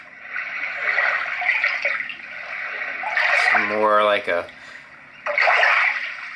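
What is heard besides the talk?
white noise sound machine water lapping sound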